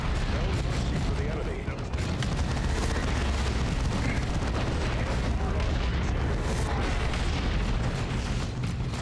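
Grenade explosions and heavy battle noise in the strategy game Warhammer 40K: Dawn of War 2, a continuous loud wash of booms, blasts and gunfire with no break.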